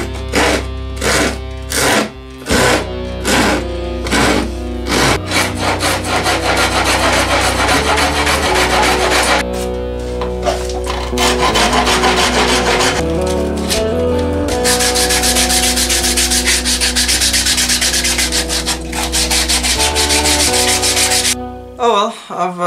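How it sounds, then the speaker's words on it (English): A rasp worked hard by hand over a wooden gymnastic ring, shaping it round: loud, steady scraping strokes, rhythmic at first and then a dense continuous rasping that runs for over twenty seconds with no talk. "honestly, it turns out the best way is to just brute force it with a rasp"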